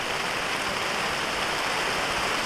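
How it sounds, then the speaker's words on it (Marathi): A heavy rain shower pours down on an open cricket ground as a steady, dense hiss that stays loud and even throughout, with no voices heard. "आणि या पावसाच्या मोठ्या सरीमध्ये"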